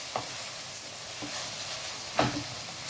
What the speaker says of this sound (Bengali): এবার আমি এটাকে খুলেই নাড়িয়ে মিডিয়াম আছে একটু ভাজা ভাজা করব 2-3 মিনিট